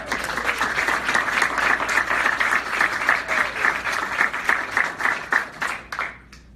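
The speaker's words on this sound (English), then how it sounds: "Applause when I get to Boston." Sustained applause from an audience at a business event as the CEO of A-Rod Corp, a former MLB MVP and sports broadcaster, is introduced on stage; steady dense clapping that holds loud before trailing off at the end.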